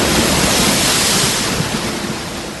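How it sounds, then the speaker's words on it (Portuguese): Storm-driven waves churning on a lake, a loud, steady roar of crashing water and wind noise that fills the whole stretch with no break or voices. "de tal maneira que as ondas começaram a cobrir o barco."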